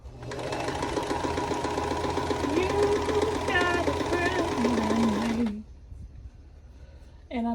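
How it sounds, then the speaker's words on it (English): A sewing machine runs in a steady near burst of about five seconds while stitching quilt block seams, then stops, leaving quiet room noise with a brief sound at the end; a voice speaks faintly under the whirring. "I'm just flipping and sewing each line like I did previously."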